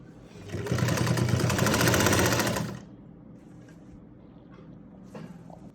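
A sewing machine stitches the side seam of a lined kurti in one steady, loud burst of rapid needle chatter lasting a few seconds, then stops, leaving quiet room sound with faint handling noises.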